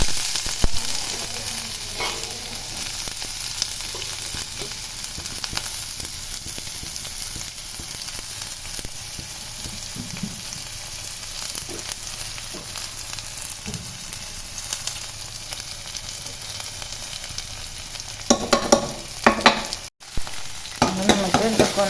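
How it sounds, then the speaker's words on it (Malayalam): Chopped shallots fry in ghee for mosque-style cumin rice porridge, crackling in a steady, close sizzle throughout, with occasional scrapes and clinks of stirring. "കുറച്ച് നെയ്യൊക്കെ ഒഴിച്ചു കൊടുക്കാം അതിലേക്ക് നമുക്ക് ചെറിയ ഉള്ളി അരിഞ്ഞത് ഇട്ട് കൊടുക്കാം"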